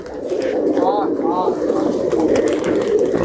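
Pigeons kept for sale as racing or tumbling birds coo in soft, repeated rolling calls over a steady, busy background murmur, the coos near and fairly clear.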